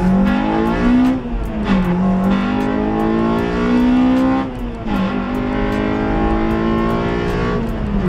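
A Honda Civic EP3 Type R's 2-litre VTEC engine revs hard and close, climbing in pitch through repeated rises with brief dips between them, loud and unbroken.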